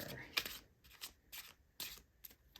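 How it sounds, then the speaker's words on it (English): Tarot cards are shuffled in quick, close bursts of riffling and flicking, several short rustles separated by brief pauses. "I know I was just feeling like an extra shuffle there"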